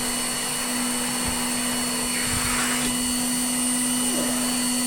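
A rare Bylock table vacuum cleaner runs steadily on thick carpet, a loud constant motor whine with a fixed hum, and brief scuffs as the head is pushed across the pile, no talk.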